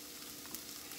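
Baked beans being stirred in a pot with onions and peppers, a steady soft sizzle and scraping texture running through the whole second with no talk.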